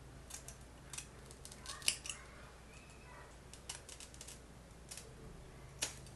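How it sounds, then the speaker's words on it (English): Scissors snipping the long sides of a pre-styled deep wave 13x6 lace front wig, a few short sharp cuts spread through a quiet stretch with no talking. "I need to cut down from the sides because it's a little bit too long"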